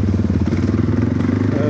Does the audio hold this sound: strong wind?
no